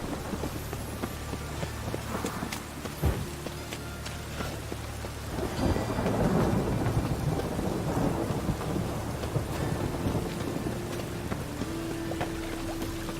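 Steady rain and rolling thunder in the Witcher 3 video game, a dense wash of rainfall with a low rumble swelling in the middle and lingering under the continuous downpour.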